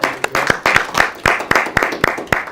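Clapping from a small audience at a talk event, with distinct, loud individual hand claps in an irregular rhythm, close to the listener, for a newly introduced publicity chair.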